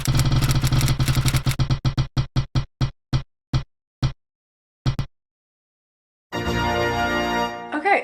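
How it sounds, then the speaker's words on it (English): A book-choosing spinner wheel whirs with rapid plastic ticks that gradually slow into widely spaced clicks before stopping; after a short silence, a sustained tonal sound begins. "Let's spin for the second book."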